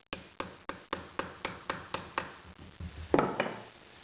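A hammer strikes a metal shaper machine to cure chatter, about nine sharp, evenly spaced ringing blows close by, then a heavier clanking knock at the end.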